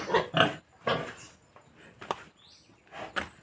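Pigs in a pen give several close, rough grunts in uneven bursts, with a few sharper squeaky notes among them and a faint high chirp in the background.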